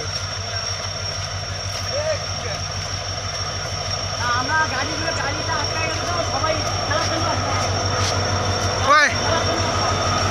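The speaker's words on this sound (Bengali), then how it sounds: "এই যে ট্রেন খান দাঁড়াইছে" The Uttar Banga Express stands at the Nayarhat level crossing with its engine giving a steady, loud rumbling hum. Faint squeals and a sharp burst come near the end, and people talk nearby throughout.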